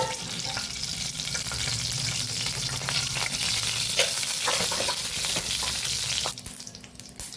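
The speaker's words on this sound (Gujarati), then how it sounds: "તેલને આપણે સરસ ગરમ થવા દઈશું" Oil heating in a pan for bitter gourd curry gives a loud, continuous sizzle with small crackles. Near the end the sound quickly drops away. No one speaks.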